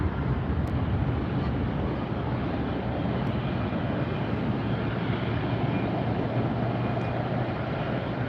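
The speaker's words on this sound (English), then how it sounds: "And we see the KLM Dreamliner coming up." A KLM Boeing Dreamliner airliner approaches at LAX airport, its engines a steady, broad roar that holds at a constant level throughout, with no voices over it.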